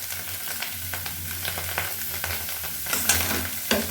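Cauliflower paratha filling with cumin powder, chili powder, salt and coriander leaves is stirred in a pan, with a continuous sizzle and soft scraping strokes, close and steady, no talking.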